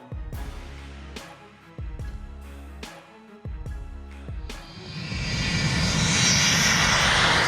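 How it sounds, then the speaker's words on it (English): A fully loaded Boeing 727-200 jet on a dangerously short runway at SKPC: several heavy thumps come first, then a loud, broad engine roar swells and holds, with no voices. "A fully loaded Boeing 727-200 thunders down a dangerously short runway at SKPC"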